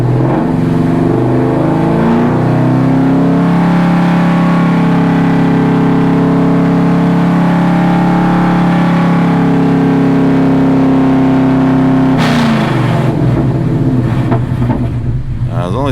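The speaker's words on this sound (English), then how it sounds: "Bring RPM to 4230 and hold." Coyote V8 in a 2016 Mustang GT held steady at about 4230 RPM, a loud continuous engine drone with stable harmonics that drops off abruptly near the end as the throttle is released.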